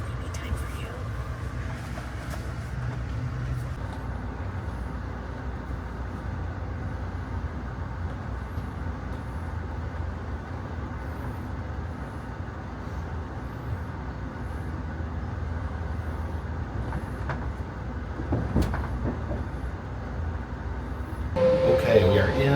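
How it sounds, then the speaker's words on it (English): Steady low rumble and hiss inside a moving passenger train coach, continuous and moderately quiet, with faint rattles and a brief louder clunk near the end. "we are in the lavatory of the train"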